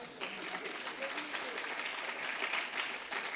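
An audience applauds steadily for several seconds, a dense wash of clapping hands filling the room.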